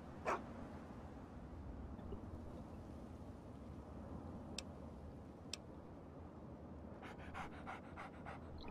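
Dogmeat, the dog companion in Fallout 3, pants softly and steadily in the background, with a few faint clicks and ticks near the end.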